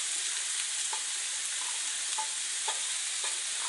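Celery sizzles loudly in a hot frying pan for vegan saffron rice, giving a continuous bright hiss with faint pops and crackles scattered throughout and no voices.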